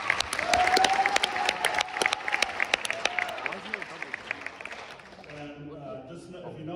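Crowd applause for a coach at a high school track and field banquet, with sharp, close individual claps standing out, tapering off as a voice begins speaking near the end.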